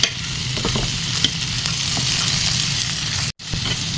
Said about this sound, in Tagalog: Pinap lang natin yung butter natin guys. Diyan natin ipiprito yung ating prawn.